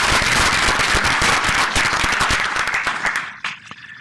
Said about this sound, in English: I think Jim deserves a round of applause too